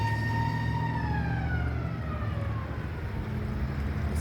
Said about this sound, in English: Oh, I hear the siren